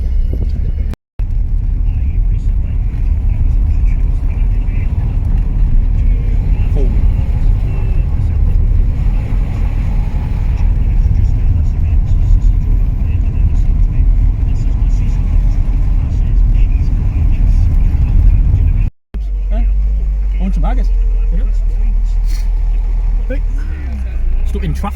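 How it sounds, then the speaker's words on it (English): Porsche idles and creeps in an Edinburgh traffic jam, a loud continuous low engine rumble heard from inside the car, with people talking over it throughout. "I'd be stuck in a traffic jam in a Porsche in Edinburgh"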